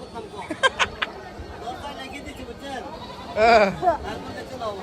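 Goats bleating at a busy rural livestock market in Guimara, Khagrachhari, with a loud close bleat standing out over constant crowd chatter and bargaining voices.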